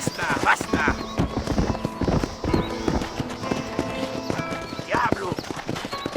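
Horse hooves clip-clop steadily on the ground in the Red Dead Redemption video game, close and clear, with a horse's whinny and a voice heard over the hoofbeats.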